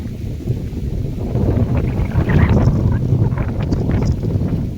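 Strong wind buffets the microphone outdoors, a steady low rumble that swells louder in the second half and stays loud throughout, with no other clear sounds on top.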